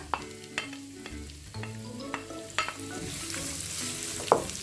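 Two medium onions, sliced, sizzle in a pan of browned garlic, with steady frying hiss and occasional clinks and scrapes of a stirring utensil, close and alone.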